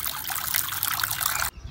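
Fresh clean water trickling and splashing as a container is filled for chickens, a steady close stream that cuts off abruptly near the end.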